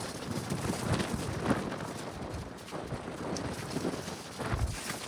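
A very strong gale roars through a garden, buffeting the microphone with loud, uneven gusts that swell and drop over several seconds.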